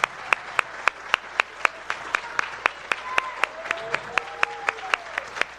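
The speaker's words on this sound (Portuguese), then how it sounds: "uma salva de palmas para os futuros mestres em extensão rural" An audience at a postgraduate welcome ceremony claps for new master's students in rural extension. The sharp claps come in a steady rhythm, moderately close, with faint voices in the background.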